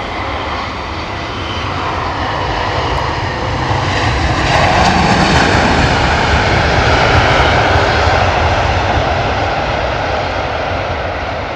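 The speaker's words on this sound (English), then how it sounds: "Sensational scenes there from the British Airways A380." A British Airways Airbus A380 passing at London Heathrow, its jet engines a loud, continuous roar that swells and holds steady for several seconds, heard close with no voices over it.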